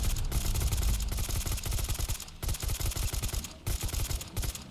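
Rapid automatic bursts from a .308 assault rifle in the Fallout 4 VR game, loud continuous rattling shots broken by brief gaps, with no talking over them.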